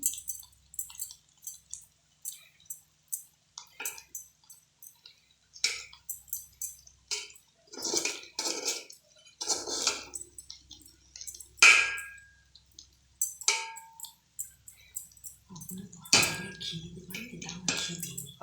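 A pot of cooking chicken biryani is covered with a lid amid a series of scattered metallic clinks and taps of cookware, close and fairly quiet, with silent gaps between them.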